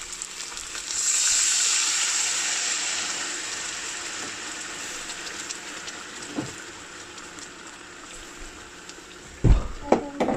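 A cup of water is poured into a hot pan of frying chicken breast, and a loud sizzle swells and then slowly settles, followed near the end by a few sharp clanks of a utensil.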